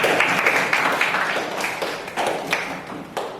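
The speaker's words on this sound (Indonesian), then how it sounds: "Oke, kita berikan tepuk tangan untuk kelompok." Students in a classroom clap for a presenting group, producing a close, uneven burst of many hands with distinct individual claps that thins out toward the end.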